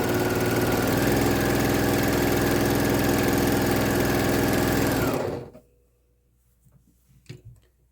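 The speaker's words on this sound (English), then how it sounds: "And you're just stitching 1/4 inch down that open side." A sewing machine stitches a quarter-inch seam down the open side of a messenger bag strap, running in a fast, steady, close-up whir for about five seconds before stopping abruptly, leaving faint handling sounds.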